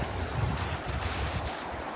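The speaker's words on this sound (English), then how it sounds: "It's quite fast moving water, isn't it?" Fast-moving, light crystal blue water in Slovenia rushing and churning, with wind buffeting the microphone in low gusts; a continuous, fairly loud roar with no voices.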